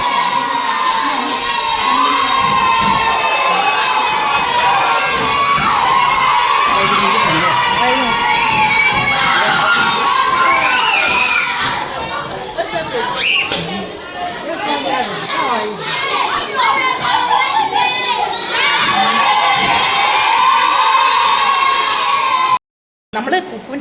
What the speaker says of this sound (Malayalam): ക്ലാസ്സിൽ കയറിയപ്പോൾ ഉള്ള ആർപ്പുവിളിയാണ് ഈ കേട്ടത്